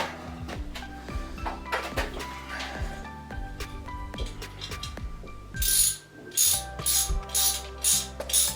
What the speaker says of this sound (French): On va mettre les fixations avec la clé à cliquet.